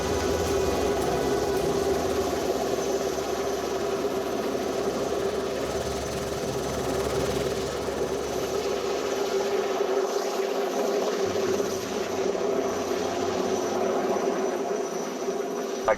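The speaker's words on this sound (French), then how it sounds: "l'hélicoptère remonte vers le camp d'altitude avec du matériel de sauvetage et des vivres" A rescue helicopter climbs toward a high-altitude mountain camp in Alaska carrying rescue gear and supplies, its engine and rotor making a steady, loud drone that holds for the whole stretch with a slight shift in tone partway through.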